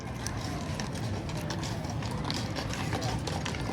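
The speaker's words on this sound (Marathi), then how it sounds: "इथे टोरंटोमध्ये म्हणजे कॅनडामध्येच घोड्यावर पण पोलीस असतात" Mounted police horses walk through a crowded park in Toronto on a fireworks evening, their hooves clip-clopping in a steady rhythm under loud crowd noise, with people talking throughout.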